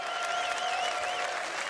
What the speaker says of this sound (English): I want to do one more round of applause